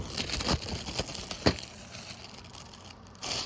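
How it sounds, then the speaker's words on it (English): Crinkly plastic shrink wrap being pulled and torn off a VHS or CD, with a few sharp ripping bursts among continuous rustling, close by. "we're gonna get this out of the shrink wrap"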